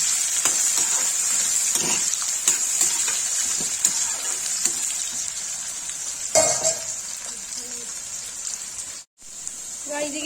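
Onions and cumin fry in hot oil, giving a continuous crackling sizzle broken by occasional stirring scrapes and brief clatters, with some talk in the background.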